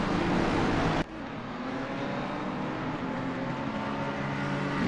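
A McLaren GT3 race car on the Brands Hatch circuit in a PS5 racing game, its engine droning loud and steady after a sharp cut, a continuous high-revving roar with no talk.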